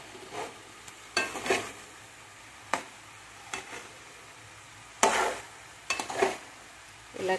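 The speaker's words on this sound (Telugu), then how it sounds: "ఇదిగోండి, కూర మగ్గుతూ ఉంది." Cauliflower curry simmering in a pan and stirred with a spoon, giving scattered scraping strokes over a soft, steady sizzle; close and fairly quiet, with no talking.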